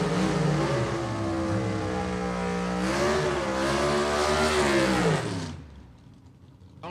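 A 1963 Chevy II drag car with a 302 cubic inch small-block Chevy engine roars at Gulfport Dragway, a loud sustained rising engine note with shifting pitch that fades away near the end.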